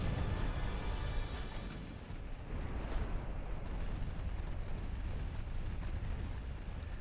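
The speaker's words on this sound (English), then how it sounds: "Let's put the secondary guns into him" Warship secondary guns firing in the Ultimate Admiral Dreadnoughts naval video game, a continuous low rumbling barrage of booms with overlapping detonations, loud and sustained throughout.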